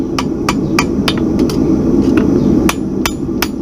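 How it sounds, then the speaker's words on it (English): A farrier strikes a horseshoe on an anvil while shoeing an English Sport Horse: about ten sharp, ringing hammer blows in a steady rhythm over a loud, constant background hum. "I'm using the different parts of the anvil for various purposes"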